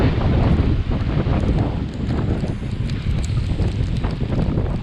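Hurricane Dorian winds roaring across a beach with huge waves crashing, a loud, continuous buffeting rush of wind over the mic mixed with surf, no voices.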